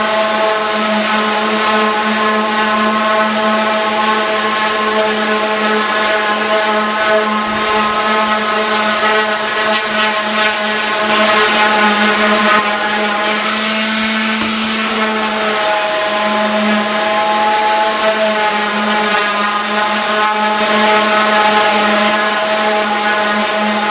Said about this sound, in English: now we want to sand it a little bit, make it smooth